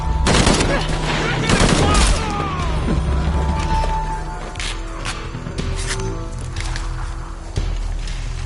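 Sustained gunfire in the Shadow of the Tomb Raider video game, rapid loud bursts and shots overlapping with crashes and thuds, with game voices and tonal music underneath.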